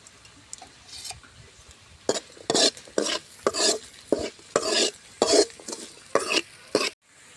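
Chopped onions stirred in a frying pan for a Tamil-style chicken curry, a spoon scraping in repeated loud strokes over a soft sizzle, about eight bursts spaced roughly half a second apart, with no talk.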